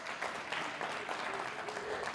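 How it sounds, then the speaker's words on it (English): Faint, steady audience applause at a business summit for small and medium enterprises, heard from a distance as a continuous wash of clapping. "Let's give Kopano a big round of applause."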